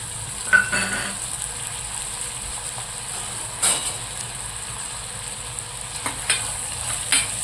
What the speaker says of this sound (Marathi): तेल आता गरम झाले, त्यात आपण हा कांदा, कापलेला एक कांदा टाकून घेऊ